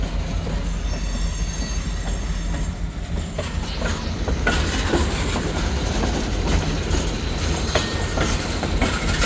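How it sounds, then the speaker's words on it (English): A freight train rolls past close by, a continuous heavy rumble of wheels on rails with rattling cars and occasional squealing, loud and unbroken throughout. "Another day, another freight train."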